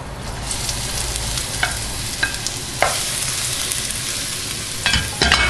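Eggplant goes into a pan of onion gently frying until golden, a steady close sizzle broken by a few soft scrapes and stirring knocks, with no talking.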